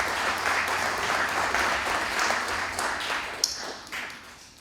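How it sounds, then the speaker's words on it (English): Audience at an MLK celebration day event held by a Cape Verdean association at Venue 727 in Brockton gives a sustained round of applause, dense and loud, tapering off toward the end. "give a round of applause for Venue 727"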